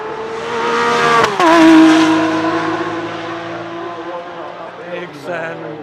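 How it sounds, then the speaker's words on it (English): McLaren sports car accelerating on a loose sandy surface, a loud rising engine note that shifts sharply, then holds a steady drone before a brief burst at the end, close and dominant. "Driving the McLaren."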